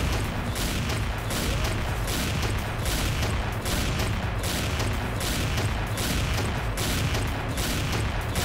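Rapid sniper fire from the Emperor Glory machine sniper rifle in the shooter game XSHOT, a dense, continuous volley of sharp shots at a steady fast rhythm that stays loud and close for the whole stretch.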